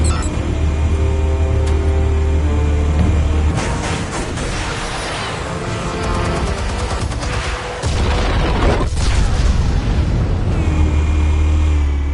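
Explosives detonating in the video game Batman Telltale: a sustained loud roar of blasts and rumbling debris with low booming bursts, a sudden sharp crack partway through, then a steady heavy rumble, no voices.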